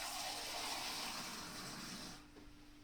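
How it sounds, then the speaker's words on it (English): Water is poured or run from a tap while cooking Jamaican jerk chicken: a steady, fairly close rushing gush for about two seconds that then cuts off, with no talking. "Now, what we're going to do is get some water"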